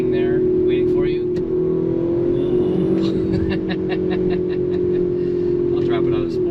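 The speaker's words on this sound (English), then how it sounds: "You can kind of hear the exhaust go, and then listen to the exhaust now. And see the revs hang." A 2019 Audi RS5 Sportback (B9) gives off a steady droning exhaust note with the revs hanging at a constant pitch, heard from inside the car beneath someone talking throughout.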